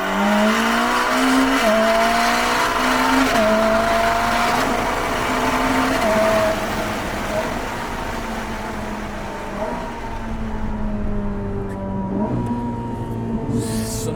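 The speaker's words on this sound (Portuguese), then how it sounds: "eu quero mostrar o ronco, mas a patada é tão impressionante e constante" Ferrari SF90 Hybrid accelerating hard, its engine roar climbing steadily and stepping down at several quick gear changes, loud and close throughout with no talking.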